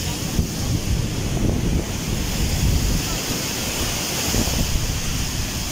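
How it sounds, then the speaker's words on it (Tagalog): Close surf at a seaside resort battered by Typhoon Egay, with waves and gusting wind blending into one continuous, loud roar that rumbles steadily throughout with no break. "Yan yung gano'ng kalapit ng dagat."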